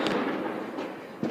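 Fireworks burst outdoors on New Year's Eve in the Netherlands, a steady crackling roar of distant explosions with a sharper pop near the end, and no voices.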